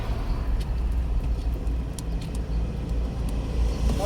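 A car moves off slowly as the clutch is eased up during a driving lesson, its engine giving a steady close low rumble and cabin hum that holds throughout, with faint clicks above.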